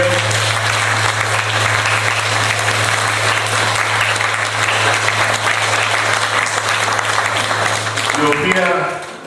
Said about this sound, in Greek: Θα ήθελα να χειροκροτήσετε άλλη μια φορά αυτή την υπέροχη χοροδία.